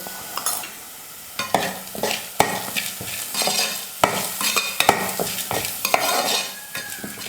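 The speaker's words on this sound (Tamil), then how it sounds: "ஒரு நிமிஷம் நல்லா வதங்கட்டும்." Onions sizzle in a hot pan with salt and turmeric while a spatula repeatedly stirs and scrapes, with irregular clacks of utensil against metal.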